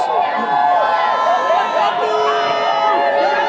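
Dense crowd of excited St. Louis Blues fans filling an arena concourse after the team's first Stanley Cup win, a loud continuous roar of chatter and cheering close around, with someone talking over it.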